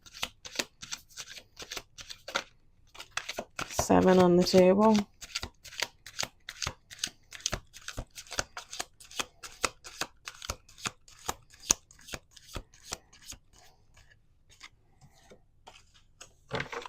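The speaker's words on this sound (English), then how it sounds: "We're going to do 2 more shuffles." Playing cards being riffle-shuffled in a rapid series of crisp snaps, close by, with a person speaking briefly in between.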